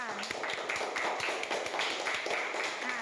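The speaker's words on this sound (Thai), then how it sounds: "ขอบคุณค่ะปรบมือให้เพื่อนๆหน่อยค่ะ" Young primary-school pupils in a classroom give a short round of scattered clapping for their classmates, light taps repeating over a steady murmur of children's voices.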